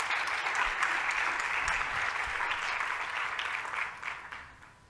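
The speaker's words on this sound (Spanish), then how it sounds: "yo pediría un gran aplauso para él" An audience gives sustained applause for a colleague at a Chilean presentation by Jaime Mañalich, steady dense clapping filling the room for several seconds before fading toward the end, with no voices over it.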